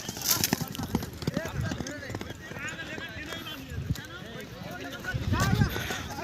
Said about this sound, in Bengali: সব ঘোড়াগুলো এসে গার মধ্যে ঢুকছে